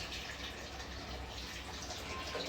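Water pours steadily into a cooking pot over cocoyam, a continuous close splashing hiss with no pauses.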